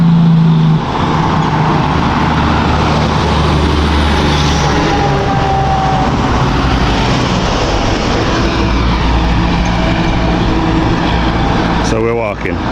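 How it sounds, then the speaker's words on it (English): A big truck rumbles past on a road near a bridge, a loud, continuous low engine roar and tire noise lasting over ten seconds, heard close by from the roadside with no clear talking. "Big truck again."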